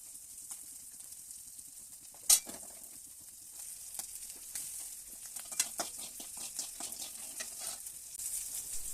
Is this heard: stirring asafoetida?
yes